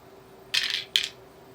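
Dice thrown on a craps table clatter in two short, bright bursts, a tumbling rattle followed by a quick second bounce, moderately loud and close, with no talking.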